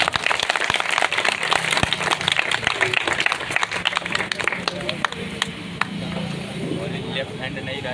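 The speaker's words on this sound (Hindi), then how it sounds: "जोरदार तालियों से" An Independence Day school program draws bursts of clapping from a seated audience, dense and irregular at first, then thinning toward the end, with voices mixed in.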